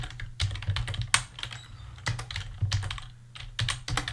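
Fingers tap out code on a computer keyboard in quick, uneven bursts of crisp key clicks with short pauses between them, close and clear with no talking.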